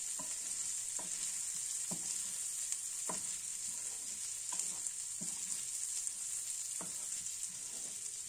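Spicy prawn fry sizzles quietly in a pan, with a steady high hiss and about eight regular scraping strokes of a spatula stirring it.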